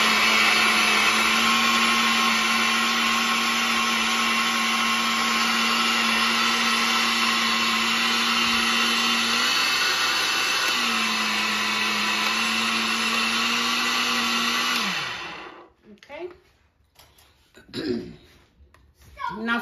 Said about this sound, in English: now it's gonna get loud, guys. So I will probably have to cut out this noise. But then we're gonna mix it, blend it